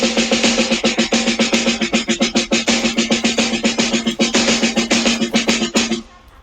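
A drum pattern with every note struck equally loud and no accents, a fast even stream of hits at full volume that stops abruptly near the end.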